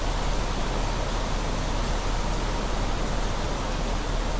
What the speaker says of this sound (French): Oh, c'est une grosse pluie là.